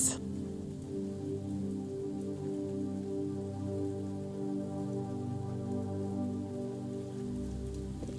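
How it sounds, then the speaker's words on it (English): Rain falls steadily on a surface outdoors in the UK, a constant close patter with no voices, beginning with a brief sharp tap. "I can't believe it's raining in this video."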